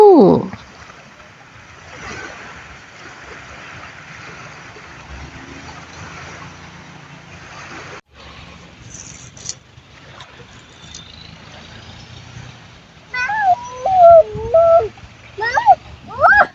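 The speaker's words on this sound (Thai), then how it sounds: "มาฟังคลื่นทะเลไปด้วยกันค่ะทุกคน" Sea waves wash onto a beach at Bang Saen in Thailand, a steady broadband surge and splash running throughout, with a voice and other speech rising over it near the end.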